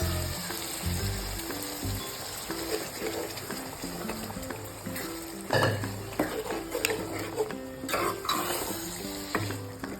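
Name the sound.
stirring and sautéing beef masala in pan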